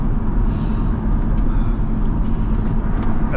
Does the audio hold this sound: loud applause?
no